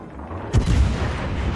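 A single booming cannon broadside from a warship in the naval battle game World of Warships, a deep close thud that rolls out over a low engine and water rumble.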